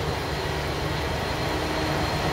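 Steady broadband rumble of a train at Cardiff Queen Street station in the rain, a continuous loud low roar with no pauses and no voices.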